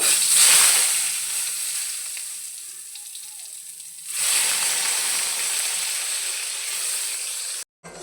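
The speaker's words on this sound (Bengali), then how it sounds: "একইভাবে আমি বেগুনগুলো ভেজে নেব" Eggplant pieces frying in oil in a pan, with a steady, close hiss of sizzling that eases off, swells again midway, and then cuts out briefly near the end.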